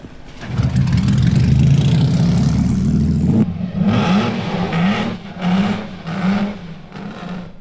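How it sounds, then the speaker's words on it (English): A loud 3-liter racing car engine roars and revs hard for several seconds at Oulton Park in pouring rain, then drops into a series of rising and falling revs as it shifts and passes nearby. "This is the later 3-liter car, with Peter Collins"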